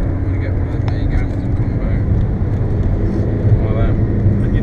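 Steady, loud in-car engine and road drone from a Volkswagen Golf lapping the Nurburgring, a continuous low rumble throughout with faint talk mixed in.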